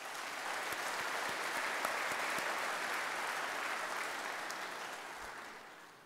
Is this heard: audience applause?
yes